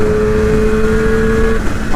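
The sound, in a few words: Yamaha RD 400 motorcycle engine revving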